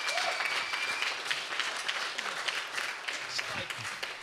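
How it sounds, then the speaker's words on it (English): Audience applauding for Darla Jade at the end of a live comedy show, a dense wash of clapping throughout, with voices speaking over it. "Let's get another big round of applause for Darla Jade"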